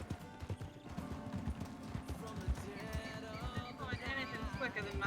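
Steady rhythmic clip-clop of hooves at a trot, continuous and fairly close, with game music and ambient sound underneath.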